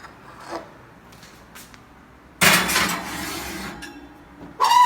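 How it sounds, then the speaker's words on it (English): A 6x8 Pyrex baking dish of meatloaf pushed into an oven: faint scrapes and clinks, then a loud grinding rack slide and metal rattle, with another scrape at the end. "And now I'm going to pop it in the oven."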